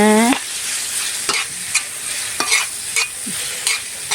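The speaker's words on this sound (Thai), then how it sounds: "พอกระเทียมเริ่มหอมนะคะ เราก็จะใส่เนื้อหอยลงไปเลย เนื้อหอยเชอรี่นะ" Apple snail meat stir-fried with garlic and chili, a loud close sizzle with repeated brisk scrapes and clanks of a spatula against the pan in quick succession, no voices.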